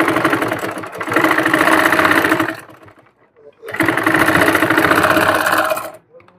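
A sewing machine runs a fine, narrow stitch fastening lace onto a sleeve cuff, in two steady whirring bursts with a short pause between them, loud and close.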